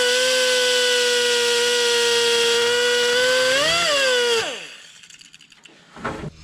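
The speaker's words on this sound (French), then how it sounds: "je vais essayer de déchiqueter en fait le morceau d'extracteur qui est coincé à l'intérieur de mon" A rotary burr whines steadily at high speed while grinding out a broken extractor jammed inside a bolt on a 1967 Toyota Corona RT40, then spins down and stops, leaving faint scraping and handling noises.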